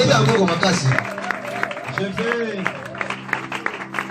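A church congregation applauds and cheers during an apostle's sermon on the prophet's ministry, with dense sustained clapping and crowd voices blending into a lively hubbub that swells and continues throughout.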